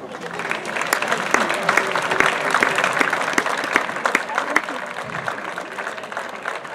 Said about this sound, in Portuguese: A esses eu quero que vocês deem uma grande salva de palmas